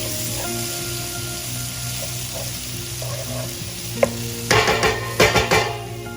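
Diced tomatoes go into a sizzling dal curry in a pan, steady frying hiss under a low hum, then a few loud bursts of spoon stirring and scraping near the end.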